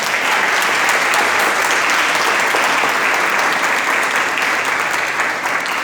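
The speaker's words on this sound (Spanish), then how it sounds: "Le damos un aplauso al Señor por esto." A church congregation applauds loudly and steadily, a dense wash of many hands clapping that holds throughout.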